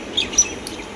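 Birds chirp in a short outdoor burst, two brief bright calls rising over steady background noise near where spoiled fish pieces are being thrown out for them to eat.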